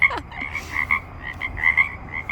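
Frogs croak nearby in a repeated, uneven chorus of short raspy calls, fairly loud against a quiet background.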